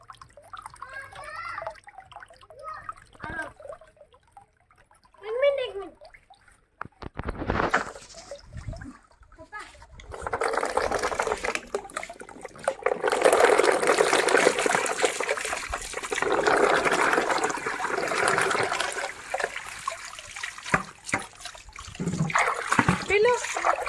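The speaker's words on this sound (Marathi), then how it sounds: "इकडे टपमध्ये पाणी घेऊन स्वच्छ धुवून घेते" Amla (Indian gooseberries) are washed in a tub of water: after some talk and faint handling, a long stretch of steady splashing and sloshing follows, with a few louder swishes near the end.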